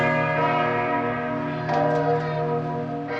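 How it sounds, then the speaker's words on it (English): Large clock tower bell in St. Mark's Square, Venice, struck by the Moor statues, tolling loud and close with rich sustained ringing harmonics, a second strike layering in partway through, no voices. "The shot cuts to show the clock tower and the Moor statues ringing the bell."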